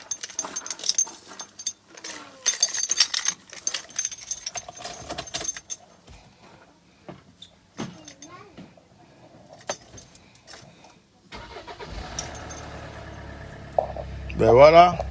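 Car keys jangle in bright metallic bursts near the start, amid scattered talk and movement. Near the end a car engine starts and settles into a low running hum.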